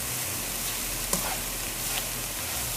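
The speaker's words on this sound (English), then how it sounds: "we're gonna continue cooking this until the sugar is all melted" Steady hiss of sugar melting and sizzling in a pot for Guyanese black cake, a constant broadband frying noise with a couple of faint clicks of a spoon against the pot.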